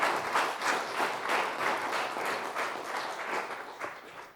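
A church congregation gives a warm round of applause during a sermon. Many hands clap steadily for several seconds and then the clapping fades, with no speech over it.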